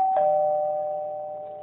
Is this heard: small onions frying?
no